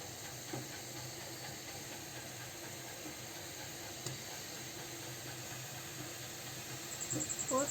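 Gulab jamun frying in hot oil, a steady, soft sizzle and hiss throughout, faint and fairly even, with a slight rise and a few light pops near the end.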